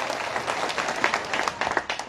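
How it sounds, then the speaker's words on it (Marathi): A crowd at an outdoor farmers' debt-relief political rally breaks into clapping, a thick steady roll of many hands with a few sharper claps standing out nearby. "तुम्ही एकदा जोरदार तुमच्यासाठी टाळ्या वाजवा"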